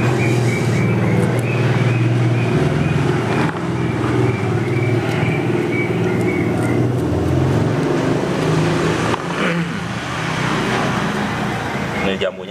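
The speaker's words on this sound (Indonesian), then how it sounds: "Jadi lalu lalang kendaraan" Steady roadway rumble from vehicles passing along the street right in front of a house, continuous engine and tyre drone with a motorbike-like whine, heard under a person talking throughout.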